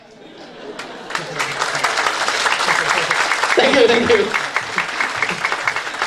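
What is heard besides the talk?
audience applause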